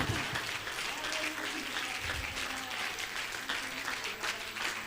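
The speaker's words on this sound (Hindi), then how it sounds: "आइए सब जोरदार तालियों के साथ।" A church congregation at a sermon applauds together, a soft, steady wash of clapping from many people, with a voice speaking over it at moderate distance.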